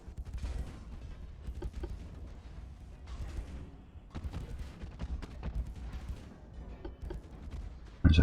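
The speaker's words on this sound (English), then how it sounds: "There's the torpedo launch." Naval battle in Ultimate Admiral: Dreadnoughts with a torpedo launch among heavy gunfire: a continuous rumble of distant booms and volleys, several stronger thuds, and a loud close burst at the very end.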